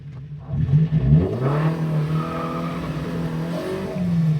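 A 1974 Alfa Romeo GTV 2000 driving on a road, its engine note steady and close, climbing in pitch as it accelerates and holding under load without speech.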